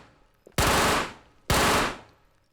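Two suppressed SMG shots from the video game Tabor, each a loud, broad burst of sustained fire about half a second long, separated by a short pause, with no talking.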